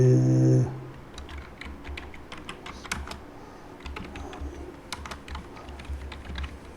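Someone types on a computer keyboard, giving a run of crisp, close, irregular key clicks after a short tone at the start, with no talking.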